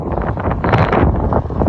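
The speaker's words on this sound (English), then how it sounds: "it is very, very windy" Strong wind buffets the microphone outdoors in a residential cul-de-sac, a constant heavy low rumble that blankets the whole stretch without a break.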